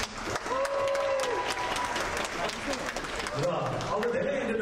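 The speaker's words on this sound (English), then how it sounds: "Let's give them a big round of applause, everybody." Audience applause at a Nepali cultural evening, a dense round of clapping that stays steady throughout, with a voice speaking over it near the start and again toward the end.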